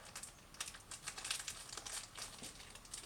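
Paper and cardboard packing crinkle and rustle close by while an iFi UP Travel unit is unboxed, a quiet run of irregular crackles and crumples with no talk.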